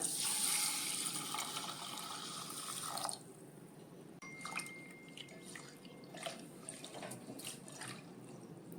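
Soaked rice being washed in water for dosa batter, with running water and splashing at first, then quieter drips and sloshing, close and faint, with no talk.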